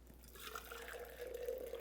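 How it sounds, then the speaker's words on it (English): Hot water from the stove being poured into a jar to about 400 milliliters, a faint, steady liquid trickle whose pitch rises slightly as the jar fills. "So I'm going to fill this jar up to about 400 milliliters."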